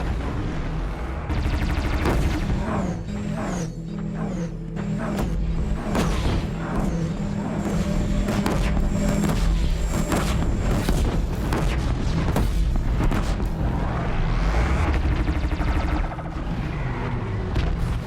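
Booming blasts, mechanical clanks and sharp weapon bursts from machine creatures in Horizon Zero Dawn pile up loudly and continuously, a dense barrage of impacts with no voices.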